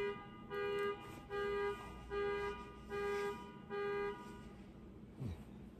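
Car horns honk outside in five evenly spaced, sustained blasts, muffled and somewhat distant, followed by faint traffic rumble.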